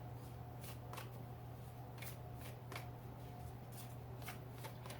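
Oracle cards being shuffled during a winter solstice card reading, a run of soft papery riffles and brisk flicks repeating every half second or so over a low steady hum, close and moderately quiet with no talking.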